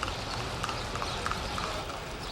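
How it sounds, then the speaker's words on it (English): A horse pulling a cart through a street in Cuba, its hooves clip-clopping in a steady rhythm against a continuous background of street noise. "get pulled by a horse"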